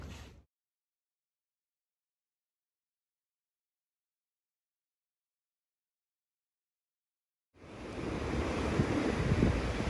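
Surf rolling onto the beach at Montañita, Ecuador, a steady broadband wash of waves with some wind, starting loud after a long silent gap following a brief burst at the start.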